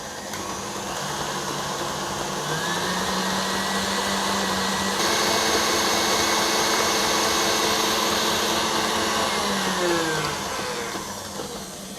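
Electric mixer beating coffee buttercream on medium-high speed, a steady motor whir holding loud and even, its pitch sliding slightly as the speed settles, without any talking.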